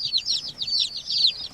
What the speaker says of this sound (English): I put my baby chicks in a nice comfortable room.